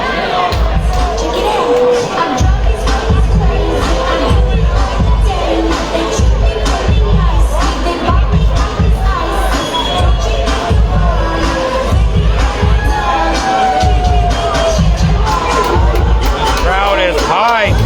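Crowd at a live Muay Thai event in a casino venue, a loud continuous roar of cheering and shouting with dense babble and bursts of whistles and yells, while a voice talks prominently over it.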